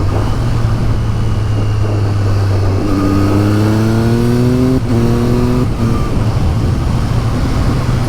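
A Triumph Street Triple 765RS motorcycle revs its exhaust with a deep tone, rising in pitch through several blips before settling to a steady idle. Loud and close, heard alone on a wet day.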